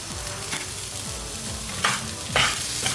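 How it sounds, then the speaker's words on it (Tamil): Grated coconut, ginger, garlic, dried red chili and tamarind roast in hot oil for a ridge gourd skin chutney, with a steady sizzle broken by repeated scraping stirs of a spatula against the pan and a few louder clacks. "இப்போ இது எல்லாத்தையும் நல்லா ஒரு தடவை வறுத்துக்கோங்க"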